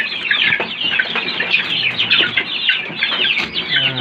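Rhode Island chickens cluck and chatter steadily in a poultry coop, a busy, close flock sound with overlapping calls throughout.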